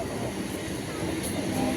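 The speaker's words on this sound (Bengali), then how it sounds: "ওই যে স্টেশনে ট্রেন, একটা ট্রেন এসছে" A local train at a railway station, heard as a steady low rumble and broadband roar with a faint high whine, continuous and fairly loud throughout the short stretch.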